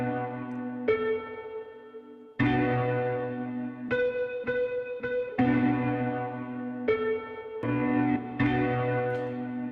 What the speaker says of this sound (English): I chopped up a note and I reversed it, and actually the effects make it sound like more like bells.